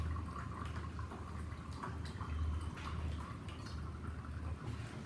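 Cold tap water pours steadily into the tank of a Rommelsbacher TA 1200 tea machine, a continuous soft splashing trickle with faint drips, close and unbroken.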